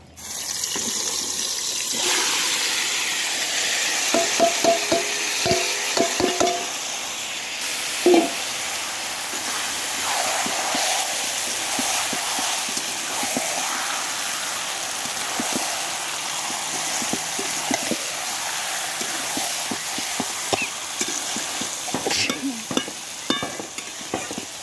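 Spice-marinated food frying in oil in a kadai, a steady broadband sizzle running throughout with intermittent stirring clatter and scraping of a utensil against the pan, no talking.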